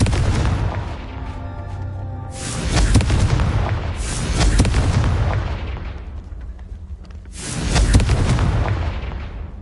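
A Confringo blasting curse set off as a series of heavy explosions, four deep booming blasts each rolling out into a long rumbling decay, loud and close with no talking.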